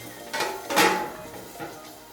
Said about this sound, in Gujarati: તેમાં થોડું બટર ઉમેરીશ અને ઢાંકી દઈશું